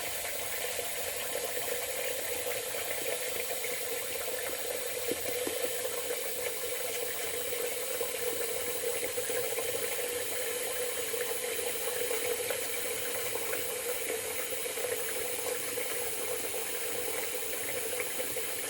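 Tap water pours steadily into a sink, refilling it between passes of a wet shave; a continuous, even rush of moderate loudness runs throughout with no voices.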